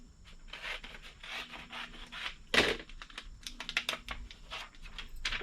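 Scissors snip and scrape through excess heat transfer fabric paper in quick, irregular bursts of crisp cutting and rustling, close and fairly quiet, with no talking.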